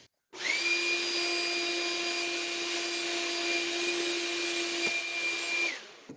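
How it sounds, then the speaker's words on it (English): A small vacuum cleaner sucks debris out of the air filter box of a 2014 Kia Soul, running with a steady whining hum for about five seconds after switching on, then powering down. "use a little vacuum and suck that out"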